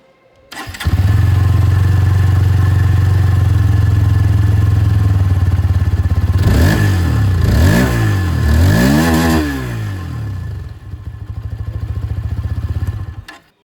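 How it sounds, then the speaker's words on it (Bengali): A 2026 TVS Apache 160cc motorcycle fires up, settles into a steady loud idle, then is revved in several rising and falling bursts before returning to idle and cutting off, heard close and alone. "এটারও যে এক্সস্ট সাউন্ড সেটাও আপনাদেরকে আমি শুনিয়ে দিই"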